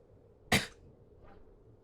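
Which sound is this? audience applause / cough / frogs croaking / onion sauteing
cough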